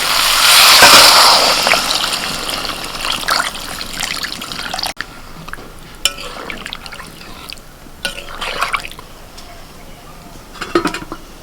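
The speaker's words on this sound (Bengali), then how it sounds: "এবার জল ঢেলে দিচ্ছি" Water poured into a pot of potatoes and pointed gourd, a loud splashing gush at first that fades into trickles and sizzle, followed by scattered clanks of the pot and utensil.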